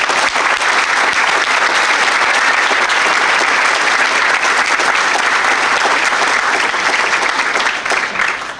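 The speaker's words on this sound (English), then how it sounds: "Let's give her a round of applause." Sustained, loud applause from a large audience at a St. Paul police awards ceremony, greeting an officer receiving an honorable mention; dense, steady clapping that runs throughout and tapers slightly at the end.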